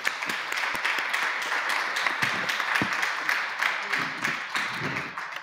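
Audience applause at a public audition session for a heritage craftsmanship prize, dense steady clapping from a room of people, moderately loud and continuous throughout, thinning slightly toward the end.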